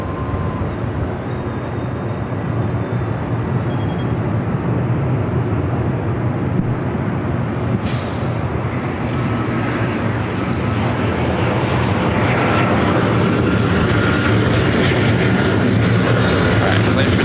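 An airliner takes off from runway 24 left at Los Angeles International Airport, a loud, continuous jet roar that holds steady and swells slightly toward the end.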